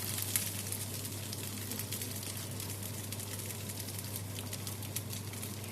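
A potato galette fries in oil in a pan, giving a faint, steady sizzle with soft crackling pops scattered throughout and no voices.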